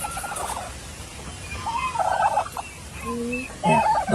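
Turkeys on a farm gobbling, several rattling calls in short bursts over a steady background hum, fairly close and clear.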